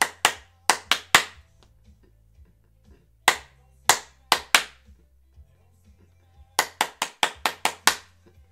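Hands clap in a call-and-response rhythm game at a music lesson, sharp close claps in quick bursts of four or five separated by pauses, with a low hum underneath and no talking.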